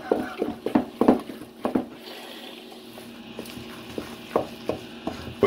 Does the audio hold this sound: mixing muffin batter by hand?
yes